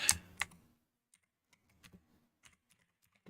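Computer keyboard: two loud key clacks at the start, then a sparse scattering of faint, quiet keystrokes spaced irregularly in a hushed room.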